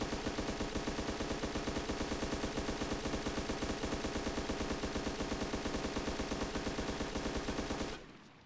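Sustained automatic gunfire in the survival video game DayZ during a base raid, a loud, rapid, evenly spaced burst of shots running for about eight seconds before cutting off abruptly.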